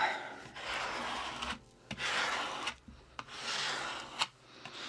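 Glue smoother rubbed over freshly glued paper while making a junk journal from recycled packaging: three long, soft, close rasping strokes separated by brief pauses, with no talk.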